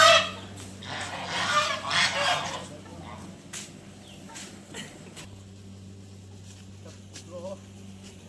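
Ducks kept outdoors near resting dogs, a burst of loud nasal honking calls up front that fades into scattered quieter quacks over steady low background hum.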